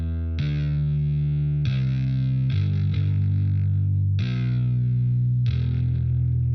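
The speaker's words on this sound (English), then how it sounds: "Ozone exciter. Detailed transients mode." An instrumental mix of a song played through the iZotope Ozone exciter in detailed transients mode, with sustained distorted guitar and bass chords changing every second or so, dense, loud and steady, with no voice.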